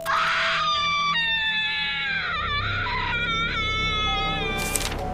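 A woman lets out a long, high, wavering scream that slides downward, then breaks into shorter strained cries, loud and alone with no talk.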